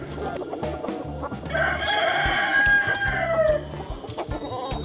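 A broody hen with four chicks clucks close by, with a loud stretched call rising in the middle over a steady bed of clucking and soft peeping.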